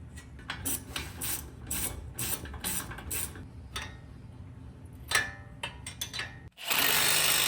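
A power tool ratchets and clatters in short bursts while tightening a bolt on a lowered truck being lifted, ending in a sustained loud whirr, close up.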